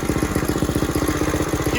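A 1970 Bird minibike engine idles steadily up close, its small single-cylinder motor putting out a rapid, even putter with no voices over it.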